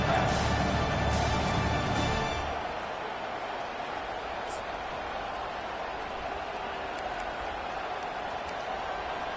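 A football stadium crowd roars in a broad, steady wash, louder over the first couple of seconds and then settling into a sustained distant rumble of cheering with occasional sharp claps.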